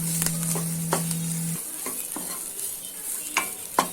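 Grated coconut frying in ghee for Bengal gram dal payasam, a soft crackling sizzle with repeated scraping stirs of a spoon against the pan, a steady tone fading early on, no talk.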